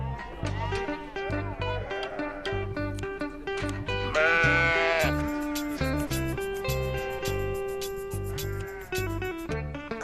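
Sheep bleat repeatedly and loudly at close range while being sheared with scissors in the shade of a tent in Tunisia. The overlapping, wavering cries follow one another with hardly a break.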